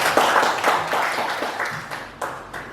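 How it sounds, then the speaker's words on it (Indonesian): A room full of people in a school setting claims a burst of applause, the clapping dense and continuous and fading slightly toward the end. "Tepuk tangan untuk kita semua."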